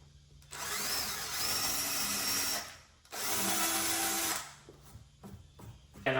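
A power drill bores into a Honda K-swap cold air intake in two sustained bursts with a short pause between them, followed by a few quieter clicks and handling noises close by.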